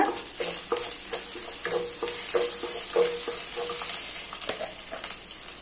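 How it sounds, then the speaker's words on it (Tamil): Ginger, garlic and fennel seeds sautéing in oil, a continuous sizzle broken by repeated spatula scrapes and knocks against the pan, close and fairly loud with no talking. "இந்த இஞ்சி பூண்டு வதங்கும் போதே வந்து கொஞ்சமா சோம்பு போட்டு வதக்கிக்கோங்க"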